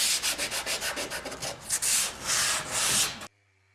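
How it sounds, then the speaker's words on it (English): Repeated rhythmic rasping strokes of sandpaper sanding wood filler on a vintage art deco hutch, close and steady, ending abruptly in silence. "And then lastly, of course, to sand away the excess filler that I don't need."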